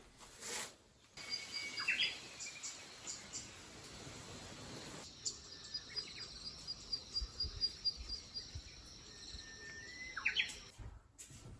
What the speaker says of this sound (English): the birds are still chirping away